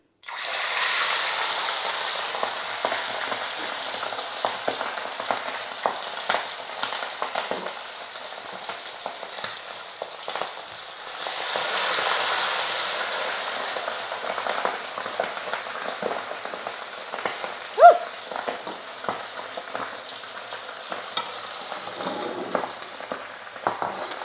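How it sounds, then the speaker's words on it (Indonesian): Steady, loud crackling and popping of chicken frying in hot oil, continuous throughout with occasional sharper spits and no talking. "kita goreng dua saja"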